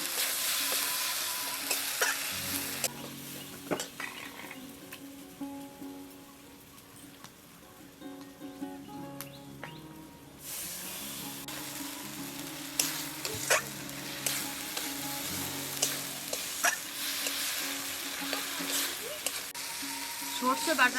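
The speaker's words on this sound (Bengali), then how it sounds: "সর্ষে বাটাটাকে নেড়ে নিয়েছি" Mustard paste is stirred in a hot pan for a mrigal fish curry with raw mango, giving soft scraping strokes over a low sizzle, close and moderately quiet, with occasional faint talk.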